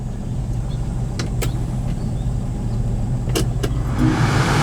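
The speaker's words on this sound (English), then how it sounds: "Wipers work." Windshield wipers running on a 1968 Mercury Cougar with 85,060 miles, heard over a steady low engine idle as a few short, sharp sweeps and thumps at irregular intervals, close and fairly loud.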